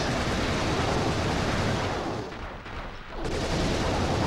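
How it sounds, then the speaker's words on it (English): A plasma cannon fires in the video game Global Defence Force, a dense, loud roaring blast of noise that fills the whole stretch, dipping briefly before surging again. "I've got a plasma cannon and I'm not afraid to use it."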